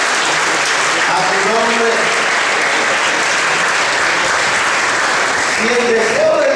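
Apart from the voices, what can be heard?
congregation applauding in church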